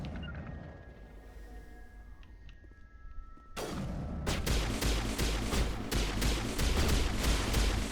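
Rapid gunfire in the video game Mass Effect breaks out after a quieter stretch of game ambience, then continues as dense, repeated bursts of loud shots for several seconds.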